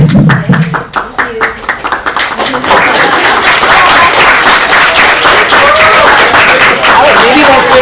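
Students in a campus panel audience clap, starting as scattered separate claps under talk and swelling after a few seconds into loud, sustained crowd applause with voices mixed in.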